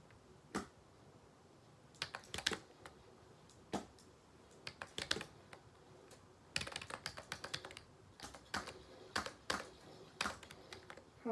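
Computer keyboard typing during a game of Fortnite, irregular bursts of crisp key clicks and taps, sparse at first then denser clusters, close but quiet, with no talking.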